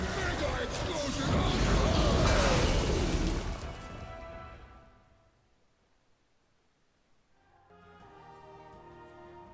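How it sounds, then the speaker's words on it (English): A mega explosion fired in the video game Across the Timeways, a loud, sustained roaring blast that swells and then fades away over several seconds, leaving a quieter tail with faint speech. "Then fire mega explosion."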